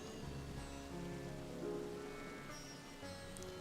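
Steady rain falls outside on a dreary day, a continuous soft patter and hiss at a moderate, even level with no voices.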